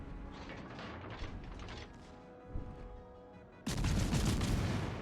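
Naval guns in a warship video game fire SAP shells, giving heavy booming blasts over a rumbling battle background, with a dense loud roar of gunfire breaking out near the end.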